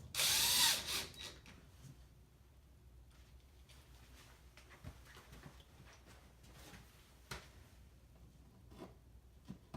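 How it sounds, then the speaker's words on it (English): A power drill briefly whirs up loudly at the start, driving an H7 screw into a furniture side panel and support brace, followed by quiet, faint taps and handling noises. "Go insert your H7 screw and tighten."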